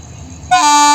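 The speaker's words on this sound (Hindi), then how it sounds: "मार दिया हॉर्न" An electric train sounds its horn with a sudden, loud, sustained toot that cuts in halfway through, after a quiet stretch of low rumble from the approaching train.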